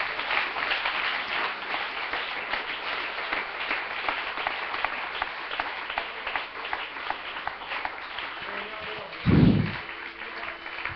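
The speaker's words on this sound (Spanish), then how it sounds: "Si lo va a aplaudir, apláudelo con ganas" A church congregation applauds during a worship service, a steady dense wash of clapping that fills the whole stretch, with a single dull low thump near the end.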